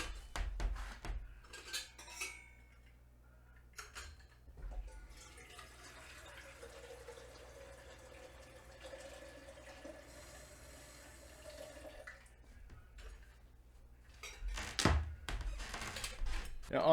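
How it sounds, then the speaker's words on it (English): Water splashes into a percolator coffee pot for off-grid brewing, starting with a few metallic clanks of the pot and lid, then a steady, moderately quiet pour that runs for several seconds before more handling clatter. "Let's put some water in this and get started."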